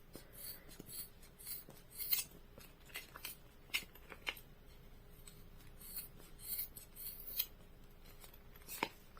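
Scissors snipping through trapillo t-shirt yarn wrapped on paper while making a tassel, a quiet, close series of irregular crisp cuts and soft rustles.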